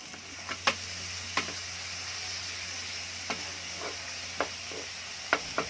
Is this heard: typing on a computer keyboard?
no